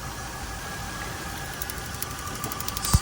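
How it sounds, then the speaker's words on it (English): A 2001 Toyota Tundra engine idles with one cylinder's ignition coil pulled, a steady low mechanical hum with faint irregular ticking heard close up. "Maybe if I pull the coil, we'll see if it's really dead, the cylinder. But we'll see if the engine changes."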